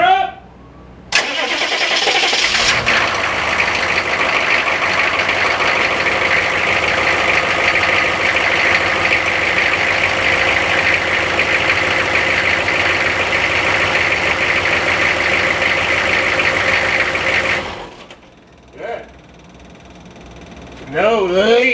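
A Suburban's engine, just repaired at the oil filter adapter, fires up and runs steadily loud and close for about sixteen seconds, then cuts off; people talk briefly afterward.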